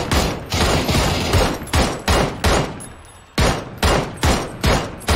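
Repeated gunfire bursts in PUBG, roughly ten sharp loud volleys in quick irregular succession with a short lull midway, close and dominant with no talk.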